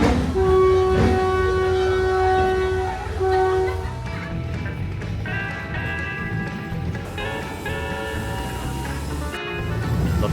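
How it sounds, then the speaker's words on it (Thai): A train pulls away from a station on the Death Railway in Kanchanaburi, Thailand, with a sustained horn blast, then steady rumbling and clattering wheels as it gathers speed. "รถไฟออกแล้วฮะตรงเวลานะครับ"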